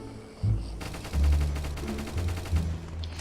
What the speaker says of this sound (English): I'm just gonna run forward and shoot at people.